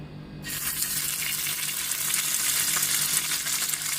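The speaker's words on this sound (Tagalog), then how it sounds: "When the pan and oil is very hot, now you can fry the egg tofu." Egg tofu slices fry in a very hot pan of oil, giving a steady, close, loud sizzle with crackling spatter that starts abruptly and continues without letup; no one speaks.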